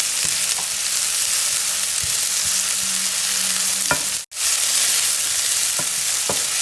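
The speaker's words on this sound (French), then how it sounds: "une fois que mon huile elle est chaude, on met mes oignons. Je vais faire revenir mes oignons." Onions sizzle in hot oil in a pan, a steady bright hiss with a few soft utensil clicks and stirs, briefly cut by a short dropout near the middle, with no talk.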